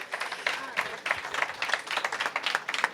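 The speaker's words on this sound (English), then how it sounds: "Please give him a warm applause." Moderate audience applause at a panel on software-defined vehicles as panelists come on stage, a thin, fairly distant patter of clapping that continues steadily.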